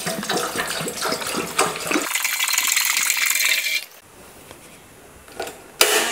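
Water is poured into a deep cooking pan for boiling macaroni, opening with clinking, rattling handling noises, then a steady splashing pour for about two seconds before it drops to a quiet trickle and a final clatter.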